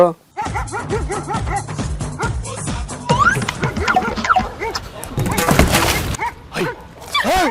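Several dogs bark loudly at close range in rapid, overlapping bursts, mixed with yips and whimpers, while people talk over the racket.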